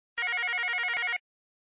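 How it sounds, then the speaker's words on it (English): A MiVoice 5540 IP console lets out a single electronic ringing burst for a new incoming call, a rapid warbling trill lasting about a second, crisp and close, then silence. "a single burst of ringing signals the next incoming call."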